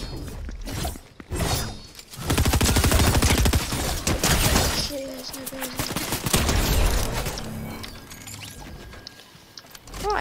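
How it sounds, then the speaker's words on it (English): Gunfire in Fortnite, dense rapid bursts and shattering crashes that run loud through most of the stretch, with players talking over the din. "You being shot at?"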